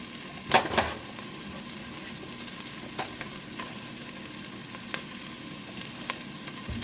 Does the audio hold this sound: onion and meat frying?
yes